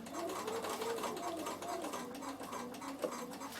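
A Bernina sewing machine stitches quilting fabric with a quiet, steady motor whir whose pitch rises and falls slightly as the needle runs, heard faintly and close with no speech.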